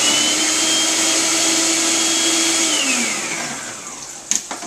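A food processor whirs steadily at close range while blending basil, garlic, oil and nuts into pesto, a loud, even motor drone that winds down toward the end, followed by a few sharp clunks.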